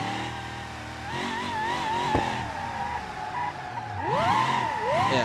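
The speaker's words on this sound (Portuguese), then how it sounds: "cada troca de câmbio dela é um estouro no cano" Chevrolet Silverado pickup in the BeamNG.Drive driving game, its engine revving and shifting on a track with tire squeal, a sharp exhaust pop cracking out near the middle amid steady engine drone.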